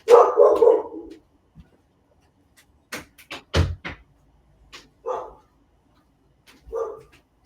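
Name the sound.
dogs barking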